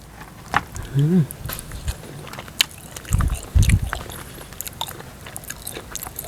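Someone bites and chews crispy roasted field rat baked in a clay jar, with a few close crunching bites and chewing sounds in bursts, and a voice briefly heard between them.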